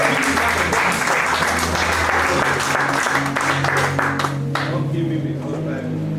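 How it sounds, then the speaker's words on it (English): A church congregation claps and applauds loudly through a sermon, with voices and shouts mixed in; the clapping thins toward the end while a low musical hum continues underneath. "clap, man of God"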